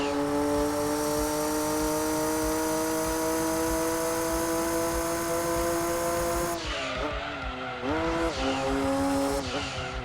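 A racing car in Gran Turismo 2 on PS1 roars at a steady high pitch under sustained load, then its engine note dips and rises through gear shifts with screeching tires. The car is loud and close throughout, with no talking.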